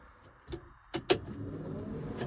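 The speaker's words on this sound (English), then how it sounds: "now we're gonna see a cold start. A little bit of throttle." A Case IH 8010 combine engine starting cold with some throttle: a few thumping cranking pulses, then the engine catches into a steady low rumble, heard from inside the cab with no talk.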